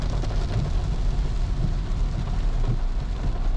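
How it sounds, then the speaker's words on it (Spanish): Heavy rain pours steadily at a construction site for a tower development, a dense, constant wash of water hitting the ground with a low rumble underneath and no pauses. "llevamos poco más de 7 minutos con lluvia fuerte"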